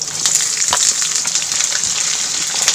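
Chana dal, curry leaves, onion and green chilli fry in oil for upma, giving a loud, close, crackling sizzle with dense popping spits and no voices.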